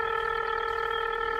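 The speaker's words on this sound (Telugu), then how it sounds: "వెంటనే తన ఫోన్లో నుంచి అతనికి కాల్ చేసింది" A steady electronic telephone tone hums continuously, clean and unbroken, with no voices.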